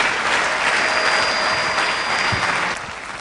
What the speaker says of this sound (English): Please, may we rise and give the director from the UN Nairobi office a clap offering